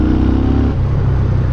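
A BMW R nineT Urban GS motorcycle engine runs loud and close while riding, a steady low throbbing drone that drops slightly in pitch partway through.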